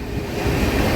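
The 22618 Intercity Super Fast Express runs at around 133 km/h, a loud, dense low rumble of wheels and carriages roaring steadily from onboard.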